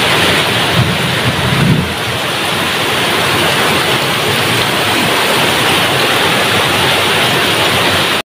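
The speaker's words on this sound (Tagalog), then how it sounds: "So, umuulan pa rin po mga kasari." Heavy rain pours down steadily, a dense, loud and unbroken hiss of water from start to finish with no voices.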